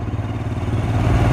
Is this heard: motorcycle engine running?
yes